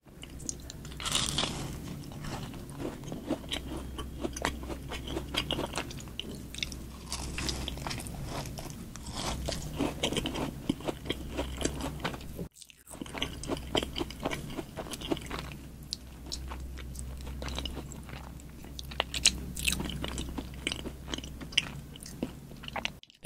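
Salted caramel macarons bitten and chewed close to the microphone, soft crisp crunches and moist chewing repeating steadily over about twenty seconds, with a brief gap partway through.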